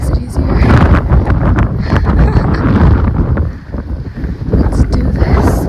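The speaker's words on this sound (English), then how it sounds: "it's really breezy up here, so it makes it easier" Strong wind buffets the microphone on a breezy, steep, rocky hilltop on Oahu, a loud, roaring gusty rush that barely lets up, dipping briefly before surging again.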